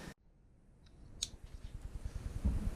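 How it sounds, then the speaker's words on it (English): Tape is cut with scissors while grille lights are being installed, a quiet close series of small snips and clicks that speeds into a rapid rhythmic burst toward the end. "I'm going to cut some tape now for these"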